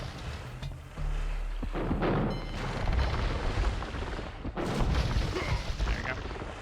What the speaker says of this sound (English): Oh, forgot you started with bombard cannons for some reason.